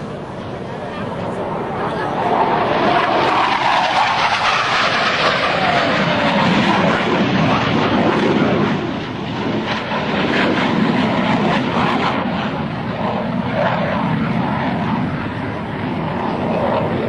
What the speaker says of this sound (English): Two solo pilots are approaching once again, this time to demonstrate the inverted flight capability of the FA-18.